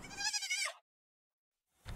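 A sheep in the video game Palworld lets out a single clear, wavering bleat that lasts under a second, followed by silence and then the start of another sound right at the end.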